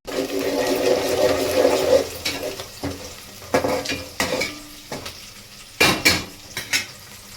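Ginger garlic paste fries in a pan for pulao, a sizzling hiss under clattering stirring, with several sharp metallic scrapes and clinks of a spoon against the pan close by, no talking.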